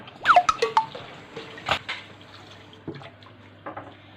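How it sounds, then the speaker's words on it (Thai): Termite mushrooms are rinsed in water, with a few close splashes and drips followed by sparse quieter trickles, and no talk. "เราเอาเห็ดโคนมาแล้วก็เอาไปล้างน้ำก่อน"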